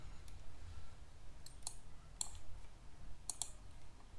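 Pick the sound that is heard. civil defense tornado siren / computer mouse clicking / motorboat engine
computer mouse clicking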